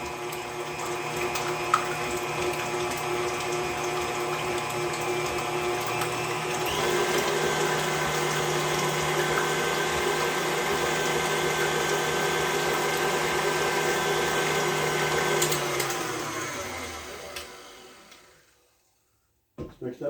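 Eggs for a pumpkin custard pie whipped with an electric mixer, a steady close whirring drone that lifts slightly in pitch partway through, then winds down and stops near the end.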